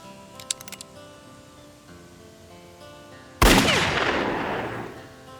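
Gunfire in a cowboy-style Western action film: a sudden loud blast cuts through quiet background sound and rings out with a long, fading echo. A few short, sharp ticks come earlier in the clip.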